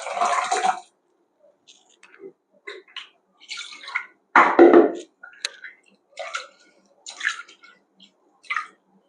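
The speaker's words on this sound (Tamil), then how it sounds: "இப்ப பருப்பு ஊத்திக்கலாம்." Cooked lentils (dal) are poured into a pot of eggplant, drumstick and mango sambar, giving wet, splashing glugs in bursts that come close and fairly loud, with gaps between them.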